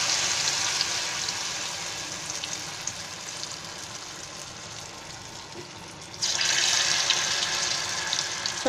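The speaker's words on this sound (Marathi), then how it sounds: "असं एक एक असं तेलामध्ये सोडायचं" Potato vadas dipped in batter are dropped one by one into hot oil, giving a continuous close sizzling hiss that swells noticeably louder partway through as another piece goes in; no speech.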